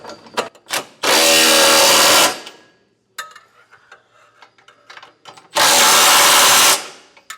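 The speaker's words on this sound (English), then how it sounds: "You can come back with your 19mm socket and get everything tightened down." A power tool with a 19mm socket tightens the nuts on a Curt Class II trailer hitch on a 2025 Subaru Crosstrek. It gives two loud, close buzzing bursts of about a second each, with scattered clinks and ratcheting clicks between them.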